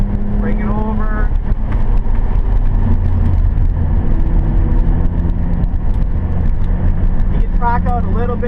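Car lapping a race track during a 2013 WSCC HPDE (high performance driver education) session, its engine a steady loud drone from inside the cabin, with a voice talking over it and brief pitch rises near the start and end.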